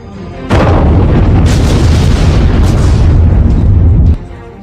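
A sudden heavy blast erupts and roars loudly for a few seconds, thick with low rumble, then cuts off abruptly.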